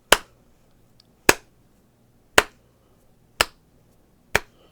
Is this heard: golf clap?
yes